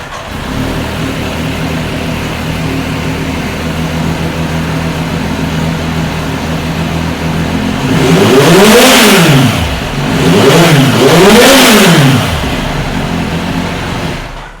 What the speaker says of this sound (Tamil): இப்போ வண்டி இது ஸ்டார்ட் பண்ணி காட்டுறேன் பாருங்கள்.